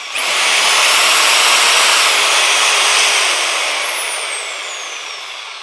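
A Bosch GSB 10 RE corded 500-watt electric drill runs steadily and loudly for several seconds, its high whine holding even before easing off slightly near the end.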